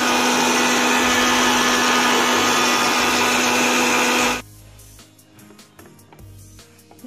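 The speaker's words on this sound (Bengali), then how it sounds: "এবার আমি মিক্সিতে এর মিহি পেস্ট বানিয়ে নেব।" Electric mixer grinder whirring loudly and steadily while blending ginger with a little water into fine paste, running about four seconds before cutting off, followed by quieter handling clatter.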